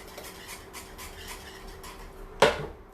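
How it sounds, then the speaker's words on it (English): A whisk rhythmically stirring cream cheese into polenta in a pot, a steady soft rubbing and scraping pulse, ending in a sharp clink against the pot, with no speech. "Stir that in until it's all incorporated. Actually, with a whisk, it works really good."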